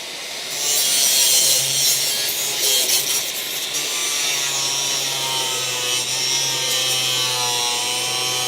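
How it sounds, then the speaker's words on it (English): A tool rasps and saws steadily through Bondo body filler on a rotted old Dodge Charger crew cab body, a loud, continuous gritty cutting noise close by with no talking. "See how easily I'm cutting through that? That's not metal. It's Bondo."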